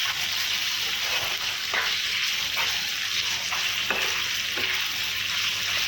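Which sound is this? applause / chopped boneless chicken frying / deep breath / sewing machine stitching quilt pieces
chopped boneless chicken frying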